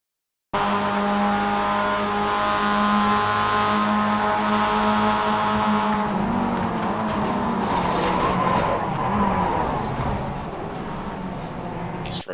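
An onboard race car on track, its engine holding a steady high drone with harmonic whine for several seconds before the pitch drops and the sound turns rougher and noisier as it shifts or brakes.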